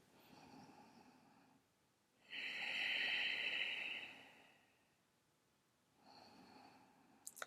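Slow deep breaths during a yoga pose, a soft inhale followed by a longer, louder airy exhale with a nasal, snort-like edge, then another quiet breath, close and with no talking.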